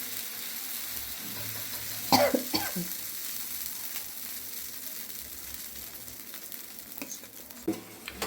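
Uttapam batter spread thick on a hot griddle, giving a steady low sizzle with a few sharper crackling bursts and scraping touches; no talking.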